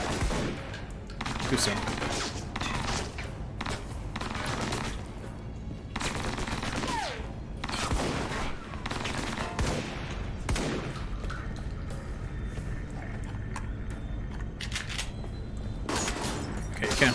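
Gunfire from the Alpha Protocol video game rattles in dense, rapid bursts close up, with repeated automatic volleys and single shots running almost nonstop, while a voice briefly speaks under the shooting.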